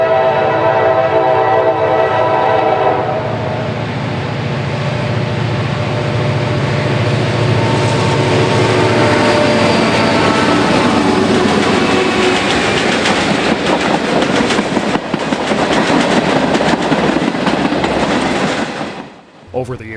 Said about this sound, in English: the former Conrail 6473 seemed to have no problem operating as it was built to 44 years prior.